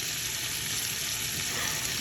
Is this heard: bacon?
yes